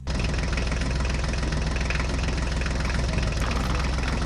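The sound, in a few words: mini tractor engine idling while backing up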